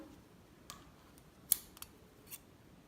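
Scissors snipping through material, several separate crisp cuts spaced irregularly, quiet and close against a faint background hiss with no voices.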